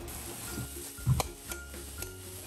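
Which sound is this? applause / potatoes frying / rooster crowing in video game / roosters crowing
potatoes frying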